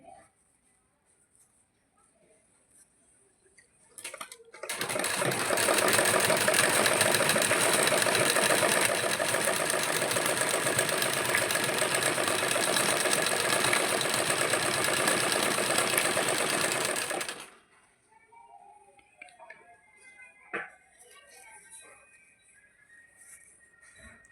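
Sewing machine stitching cord piping onto a dupatta, a loud continuous mechanical whir lasting about twelve seconds, starting abruptly and stopping sharply, with quiet handling sounds before and after.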